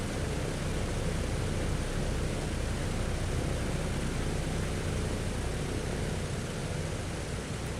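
A DC-6 airliner taxiing at Zurich in Microsoft Flight Simulator gives a steady, loud broadband engine roar that holds level throughout with no talk over it.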